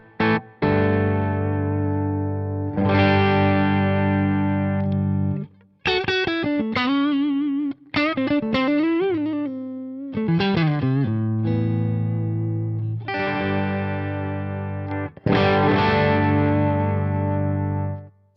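Electric guitar with a humbucker pickup played through channel 2 of a Studio Plex MK II amp on a neutral setting: sustained distorted chords and a melodic lead passage, loud and close, with brief gaps between phrases and no talking.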